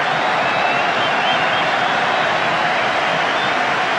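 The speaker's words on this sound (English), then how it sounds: "Billy Bremner enjoying the applause of this crowd." A football stadium crowd at a Leeds match roars and applauds at half-time, a dense, steady wash of distant crowd noise with no distinct individual claps.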